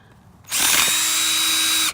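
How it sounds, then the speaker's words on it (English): A power drill fitted with a wood drill bit bores through fresh new ice over a well, a loud steady whine starting abruptly and running about a second and a half before cutting off, with no talking. "it would take with this drill bit, wood drill bit, to go through this new ice"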